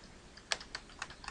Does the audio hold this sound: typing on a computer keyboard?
yes